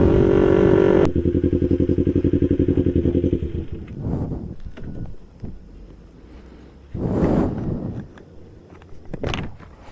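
A stock 2008 black Kawasaki Ninja 250 with a slip-on exhaust idles loudly up close, then its steady engine drone cuts off, followed by intermittent clunks and rustling movement nearby.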